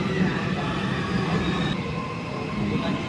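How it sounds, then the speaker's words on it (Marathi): A metro train pulls into a station, its steady broadband rumble and rail noise filling the platform at a constant loud level with faint wheel squeal. "चला ट्रेन आली."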